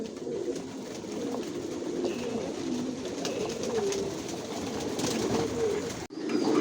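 Racer pigeons coo steadily inside a loft, a continuous soft warbling chorus of many birds close by, ending in a brief dropout near the end.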